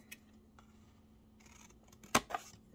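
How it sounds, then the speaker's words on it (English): Scissors snip a small plastic tab off a model car part. One crisp, close cut rings out sharply near the end, after a few faint clicks and handling noises in a quiet room. "So we're going to cut that little tab off."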